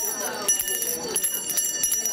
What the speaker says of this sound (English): you can expect to start seeing and hearing the Salvation Kettlebell ringers at local participating businesses